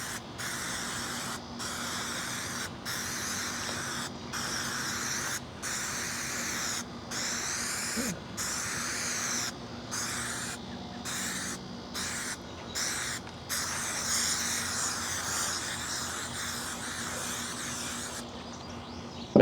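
3M super strength adhesive is sprayed from a can onto a door panel: close, steady hissing bursts separated by brief regular pauses.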